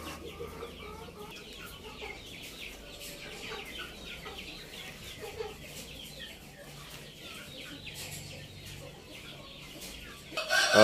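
Two-month-old Indo Gigante chickens, including a white hen, cluck and chatter softly in a backyard pen, with a quiet farmyard hum beneath and a sudden louder burst at the very end.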